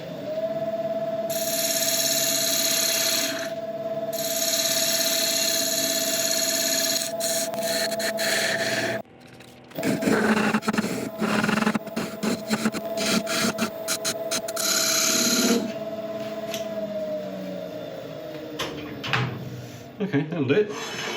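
A woodturning lathe hums steadily while a tool cuts a recess into a spinning resin base, giving rough scraping and rasping bursts. The motor drops out briefly, then cutting resumes with choppy, uneven chatter.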